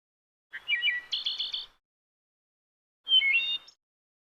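Bird song alarm tone from a premium clock: two short bursts of chirping, trilled tweets separated by a pause, clean and alone with no talk.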